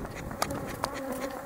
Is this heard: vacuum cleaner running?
no